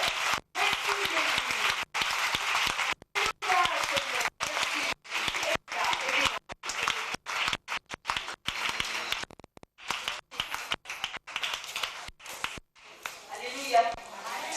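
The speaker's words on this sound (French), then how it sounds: "Acclamons très fort le Seigneur." Church congregation in Côte d'Ivoire applauding the Lord, sustained loud clapping in rapid bursts with brief gaps, cheering voices mixed throughout.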